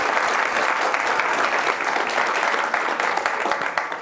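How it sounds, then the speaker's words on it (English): A room full of people applauds in a dense, steady wash of clapping that holds at full strength for the whole stretch, closing a session on affiliate marketing before a question-and-answer period. "a round of applause for everyone"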